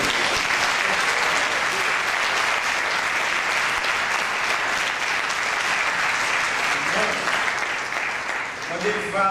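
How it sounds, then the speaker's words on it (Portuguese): A church congregation at a Sunday evening service applauds in a dense, sustained wash of clapping that holds steady and begins to fade near the end. "Nós podemos dar um aplauso a Ele,"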